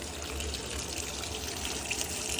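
Tap water runs hard into a container being filled to soak couch cushion covers in detergent, a loud, close, unbroken rush of pouring water.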